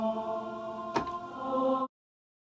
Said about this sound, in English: The choir.